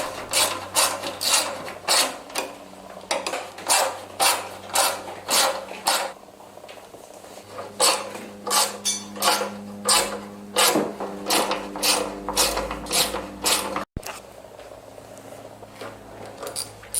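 A scrapyard lawn mower's gearbox and drive mechanism being turned by hand, giving a repeated series of close, rhythmic ratcheting clicks and rasping mechanical rubs in bursts, with a short pause midway.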